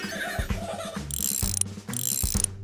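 Cartoon wrench ratcheting in a children's garage show, a series of sharp mechanical clicks and whirs in quick bursts, loud and close with no talking.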